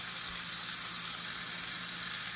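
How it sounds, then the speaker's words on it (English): Beaver meat sizzles steadily in a hot pan, a continuous close hiss with no talk and no breaks. "It's sizzling."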